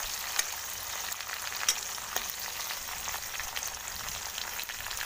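Poha ingredients with curry leaves sizzling in hot oil over a high flame, a dense, steady crackle with a few sharp pops.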